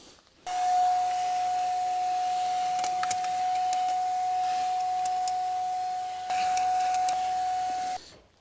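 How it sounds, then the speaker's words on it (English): A vacuum cleaner runs steadily with a sustained whine while cleaning out the air filter housing of a BMW E87, starting abruptly, dipping briefly near the end, then cutting off, with some rattling and no talk. "I have to take a vacuum cleaner, vacuum all the housing for filter"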